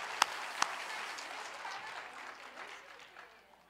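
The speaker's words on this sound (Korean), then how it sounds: "영광의 박수를 하나님께 드리면서 격려하십시다" Applause from a church congregation during a worship service, fairly soft and distant, with a couple of sharp claps near the start before the clapping fades out.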